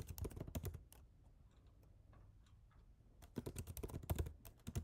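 A computer keyboard is used to type into an online form. Quick clusters of close keystrokes come at the start and again near the end, with a quiet gap between them.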